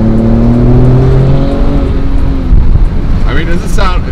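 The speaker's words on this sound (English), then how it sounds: "it doesn't sound bad for a V6 twin turbo" A Ford Raptor's twin-turbo V6 engine gives a steady, fairly loud droning hum that eases into a lower, rougher rumble, with a voice coming in briefly near the end.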